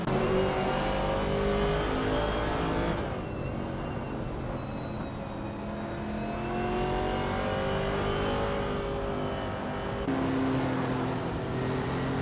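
Video game racing cars, led by a 2018 Ford Mustang Shelby SS, drone and accelerate together at the start of a race, a steady layered engine whine with rising pitch sweeps and a brief dip midway.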